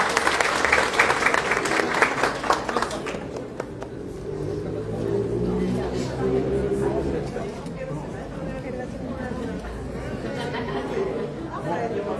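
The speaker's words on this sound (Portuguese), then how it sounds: "Então, palmas para a minha oficiala." A courtroom audience at a mock trial held at a law faculty claps for the court officer. Loud, dense applause fills the first few seconds, then fades into steady crowd chatter and murmuring.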